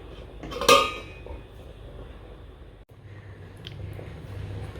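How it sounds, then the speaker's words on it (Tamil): A lid is set on a pot of sankara fish curry with a single bright metallic clank near the start. A low, quiet simmer follows under a soft background hum. "இதில் ஒரு மூடி போட்டு விட்டுடலாம் நம்ம."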